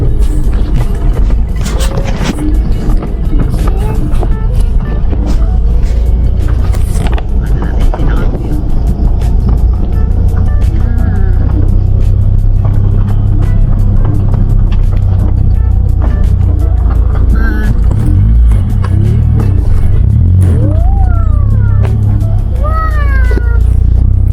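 A sedan drives over a rough road near a lakeside campsite in Cavinti, Laguna, with a steady, loud low rumble throughout. A cat meows repeatedly in the cabin, and voices can be heard faintly.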